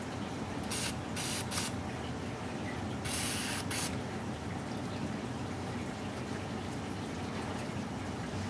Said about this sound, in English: So we're gonna take the penetrating oil, spray it, then wipe it down.